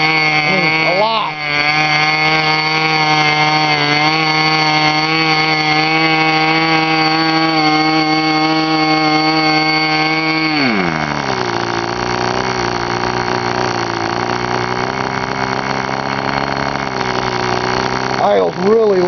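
A K&B Fuji .05 model aero engine runs at a steady, loud, high-pitched buzzing scream, then its pitch drops sharply partway through and it keeps running lower, close to the microphone.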